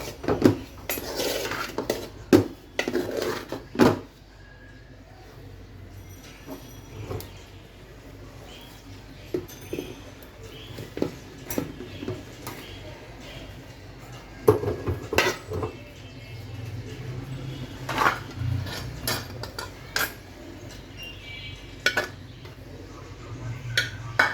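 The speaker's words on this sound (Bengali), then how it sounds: "এখন আবারও কিছু সবজি দিয়ে দিচ্ছি" Vegetables being added to rice in a pan and stirred in for a spiced vegetable fried rice, with scattered clinks and scrapes of a utensil against the pan at an irregular pace, close and moderately loud.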